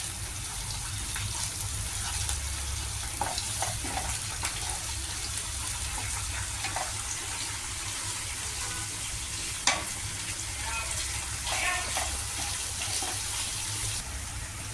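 Spices sizzle and fry steadily in a pan while cooking bhetki fish kalia, a constant soft hiss with occasional stirring clinks and scrapes, fairly quiet and close, with no talking.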